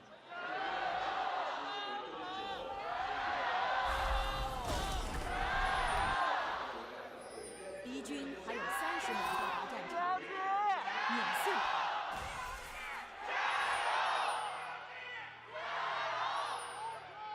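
A large esports arena crowd at an LPL spring playoff match between Bilibili Gaming and Top Esports cheers and whoops in repeated loud surges, with a commentator's voice running over the noise.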